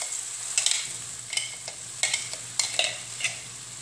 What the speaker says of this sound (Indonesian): Nah, ini saya akan ditumis ya sampai matang.